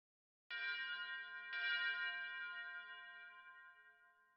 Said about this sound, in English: This is the sound of a funeral bell